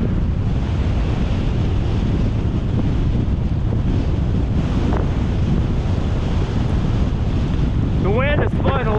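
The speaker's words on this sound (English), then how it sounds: "The wind is blowing a lot faster than it was when this ride started." Strong headwind roars across the microphone throughout a bicycle ride in Cooke County, Texas, a steady loud buffeting rush with no break, and a brief high whistling sound near the end.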